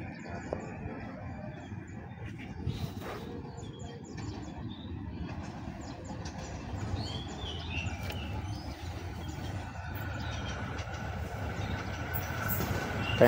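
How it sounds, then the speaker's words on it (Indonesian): A KRL commuter train approaches from the direction of Jatinegara station, a steady broadband rumble of wheels and cars that builds slowly in loudness, with birds chirping faintly on top. "Ada KRL nih dari arah stasiun Jatinegara."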